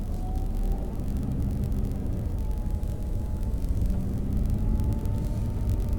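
An Audi R8 moving off slowly on light throttle: a steady low engine rumble and road whir, close and constant, with no speech.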